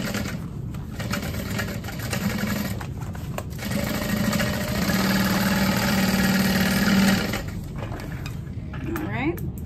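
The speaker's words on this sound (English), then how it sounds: "I'm back stitching and I'm lifting up and I'm going all the way to the next curve" A sewing machine back stitches and then runs along a curve on a messenger bag, a continuous mid-pitched mechanical whir with brief pauses and small clicks, close and steady.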